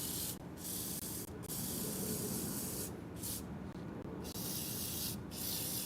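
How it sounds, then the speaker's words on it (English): Sustained hiss of an aerosol spraying Fluid Film rust protection onto vehicle parts, a loud close continuous spray broken by a few short pauses, with no talk. "gotta spray it down with the film"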